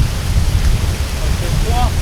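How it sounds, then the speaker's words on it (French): Steady rushing water of a waterfall on the Kalalau trek roars close by, a broad continuous wash of falling water with a few faint voice sounds near the end. "ça c'est la cascade qui va nous servir de douche"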